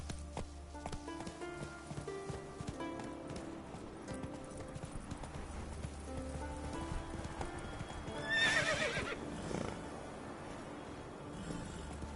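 Hooves of Roach, a horse in The Witcher 3, clip-clopping in a steady rhythmic gait under game music, with a whinny partway through.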